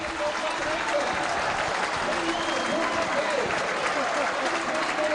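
Stadium crowd at a Tuesday night Burnley versus Plymouth Argyle football match, a steady loud roar and applause filling the whole stretch without pause.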